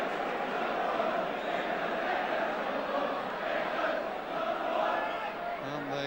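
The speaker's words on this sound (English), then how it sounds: "the cry from the crowd about Spink is England's #1" A football stadium crowd at a 1983 Luton v Spurs or Aston Villa v Leicester match chants about goalkeeper Spink, a steady distant roar of massed voices throughout.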